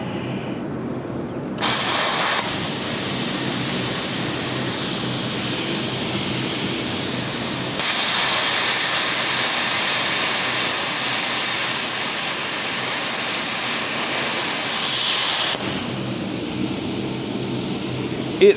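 An ARCCAPTAIN CUT55 plasma cutter slices through one-inch thick metal, giving a loud, steady hissing roar with harsh crackle that runs for about fourteen seconds, stepping up in intensity partway through before cutting off near the end.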